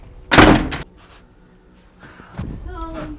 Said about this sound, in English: I would like to close my door